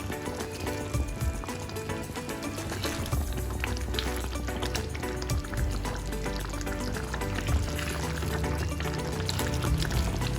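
Palak paneer gravy simmering in a pan with oil risen to the surface, a steady bubbling and sputtering that runs continuously at moderate level for the whole stretch with no talk.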